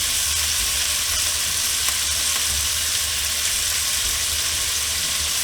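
Olive oil sizzling steadily in a hot frying pan, a continuous close crackling hiss with no talking over it.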